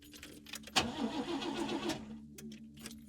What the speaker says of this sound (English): Okay, let's start the car.